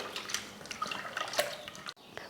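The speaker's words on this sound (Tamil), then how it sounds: "ரசத்துக்கு ஒரு நெல்லிக்காய் அளவுக்கு புளி எடுத்து ஊற வச்சுருக்கேன். அதை கரைச்சிக்கலாம்." Soaked tamarind, about the size of a gooseberry, squeezed and dissolved by hand in water for rasam, giving close, wet squelching and dripping splashes in short irregular bursts, with a brief gap near the end.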